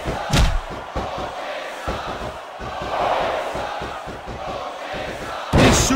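A wrestling arena crowd in the WWE Smackdown vs Raw 2006 video game roars and chants steadily, punctuated by rhythmic thumps and slams, with sharp bursts at the start and end.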